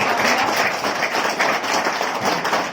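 An audience claps loudly and continuously at a Hindi-language business seminar stage event, a dense, even wash of applause filling the whole stretch with no pause.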